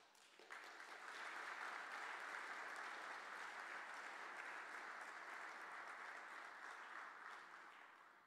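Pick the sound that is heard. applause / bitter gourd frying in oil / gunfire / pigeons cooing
applause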